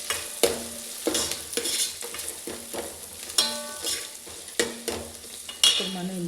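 Coriander and curry leaves sizzle in a curry pan while a spoon stirs them, giving a crackling fry broken by a rhythmic series of scraping strokes close up.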